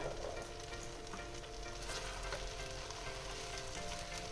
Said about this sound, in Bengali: এবার আমি এটাকে একটু নেড়ে চেড়ে ডিমের ভুজিয়াটা দিয়ে আমি নামিয়ে নেব